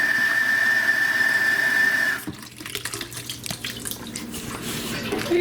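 A kitchen tap runs with a thin steady whine, then water gushes into a sink, splashing and burbling close by as it fills.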